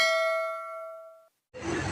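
A single bright bell ding rings out and fades away, then a short burst of noise cuts in after a moment of silence.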